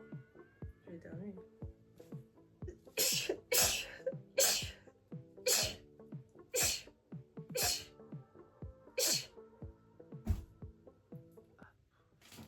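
A single person sneezing indoors, a sharp burst standing out among voices and household sounds that continue around it.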